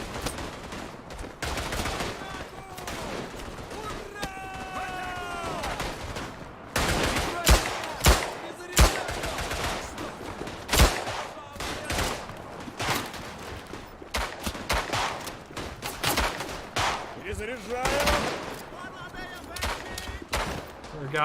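Gunfire in the World War I shooter Tannenberg: scattered rifle and machine-gun shots crack near and far through a long battle soundscape, with sharp bursts clustering midway and intermittent speech over the din.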